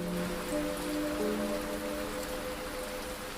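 Steady rain falls through the night at a railway station, a continuous hiss of drops with faint sustained tones drifting beneath it, no voices.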